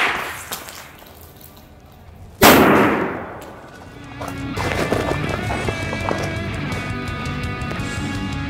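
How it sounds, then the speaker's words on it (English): A civilian flashbang grenade goes off with one sudden loud bang, followed by a ringing, crackling tail and rumbling debris noise. "now we're gonna test out our flashbang grenade"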